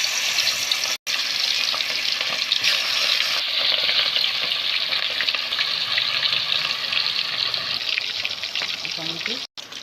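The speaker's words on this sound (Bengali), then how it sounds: "মাছটাকে ভেজে নিব।" Fish coated in salt and turmeric fries in hot oil in a pan, a loud, continuous crackling sizzle broken only by two brief dropouts, with no talking over it.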